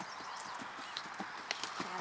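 Horse hooves clip-clop at a steady, rhythmic pace on the ground during a riding lesson, heard moderately close over a constant background hiss.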